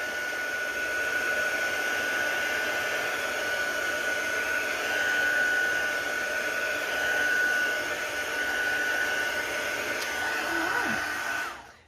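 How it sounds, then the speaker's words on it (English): A heat tool blasts steadily to dry ink on a Halloween craft project, a loud, even hot-air whoosh with a faint whine, running close and unbroken for about twelve seconds before cutting off. "So I'm going to give that a quick blast with the heat tool."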